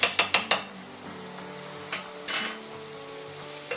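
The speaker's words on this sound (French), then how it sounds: "on va faire revenir ça tranquillement" Onions sauté in a pan with a soft continuous sizzle. It opens with four quick metallic taps of a utensil on the pan, and later comes a brief stirring scrape.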